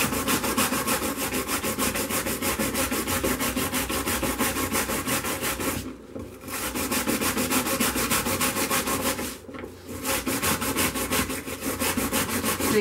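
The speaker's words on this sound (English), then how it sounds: "scrubbing and scrubbing and scrubbing. Basically, until you're happy with the finish." Steady, continuous scrubbing of a finished leaded stained glass window, a dense rhythmic brushing that fills the whole stretch, broken by two brief pauses, close and fairly loud with no talk.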